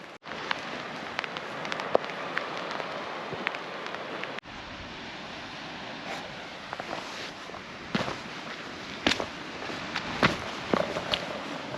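Steady rain falling outdoors on a coastal walk at Noss Head in northern Scotland, a dense continuous patter with scattered sharper drop impacts and a few heavier taps, fairly close, with no one speaking.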